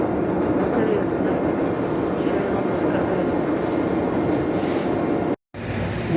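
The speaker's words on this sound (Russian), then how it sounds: "Метро не маленькое, кстати. Вот мы едем красиво." Chicago metro train riding along, a steady loud rumble of wheels and car noise filling the whole stretch, with a brief cut near the end before the rolling roar resumes.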